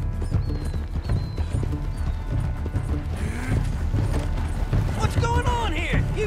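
Hooves clip-clop in a steady galloping rhythm from a horse in the Red Dead Redemption 2 video game, mixed with rattling tack and game ambience, followed by a short whinny near the end.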